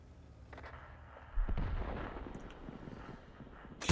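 A tank cannon fires a lobbed shot in a tank battle game, a single deep boom with a rolling, fading tail at moderate distance.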